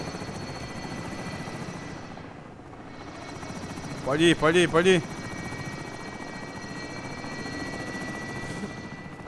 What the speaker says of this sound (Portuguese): Helicóptero saindo com depósito a bordo.